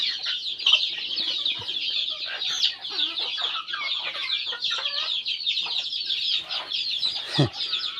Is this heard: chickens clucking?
yes